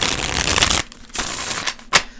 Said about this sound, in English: So it shuffles lovely. Classic, good shuffle.